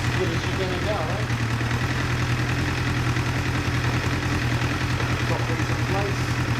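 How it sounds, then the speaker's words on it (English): A motorcycle engine with freshly balanced carburetors idles steadily at close range, a continuous low, even rumble with faint voices or clinks underneath. "Engine sounds a lot smoother."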